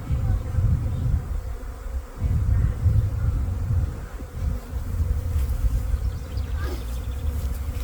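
A swarm of honeybees drones in a dense, continuous buzz while being captured outdoors, close by and steady throughout, with slight swells in intensity.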